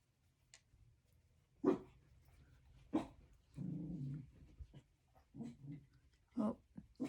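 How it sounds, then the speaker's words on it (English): A dog barks and growls indoors in a few separated bursts, with low whimpering and breathing between them; moderately close but fairly quiet, over a faint background hum. "oh, doggy alert."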